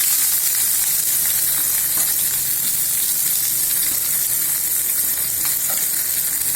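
Onions frying in a pan for soup, a loud, constant close-up sizzle with faint stirring and no voices.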